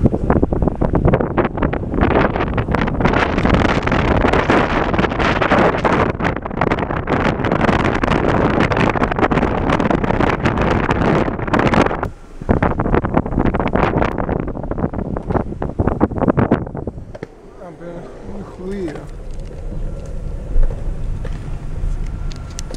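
Heavy wind buffets the microphone while riding at speed, a loud roaring blast that dominates for about sixteen seconds, briefly dropping midway before fading to a quieter rumble with faint background sounds.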